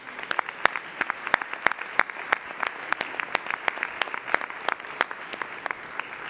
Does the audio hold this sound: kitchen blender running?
no